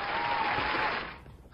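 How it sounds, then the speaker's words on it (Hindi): A brief wash of studio audience applause on a Hindi TV talk show, full and steady for about a second before tapering off quickly. "ये तालियां मेरे लिए"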